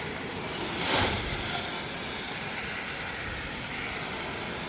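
A garden hose sprays water to rinse a car wheel after tire cleaner, making a broad, steady hiss close by that swells briefly near the start and then holds even.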